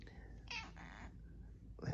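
A pet cat meowing indoors, several short soft meows close by, with a person speaking quietly around them.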